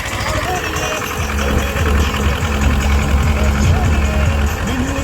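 A tractor engine running in third gear at a rural contest, a steady low rumble with a mechanical hum throughout, while someone talks and music plays in the background.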